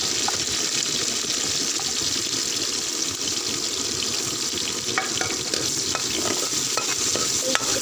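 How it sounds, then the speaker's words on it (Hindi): Mustard greens saag with green chilli, ginger, coriander and tomato stirred in a pan for Punjabi sarson ka saag, a steady soft sizzle with scraping spoon strokes throughout, close and continuous, no talking. "इसको अच्छी तरह हिलाएंगे।"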